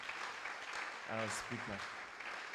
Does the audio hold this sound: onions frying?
no